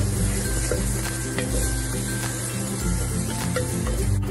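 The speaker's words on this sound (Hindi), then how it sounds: "कश्मीरी मिर्च, धनिया पाउडर, काली मिर्च पाउडर, और ये सबको हम मिक्स कर लेंगे मसाले को।" Chana masala spices, chili powders, coriander and black pepper, sizzle in oil in a pressure cooker while stirred, a close, steady frying hiss with repeated scraping strokes and a low background hum.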